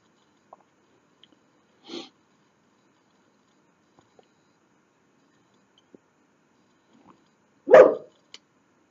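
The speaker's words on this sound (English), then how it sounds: "My dog was barking at the wind." Two short, sharp dog barks at the wind, separated by quiet, the second louder and closer, with a few faint clicks in between.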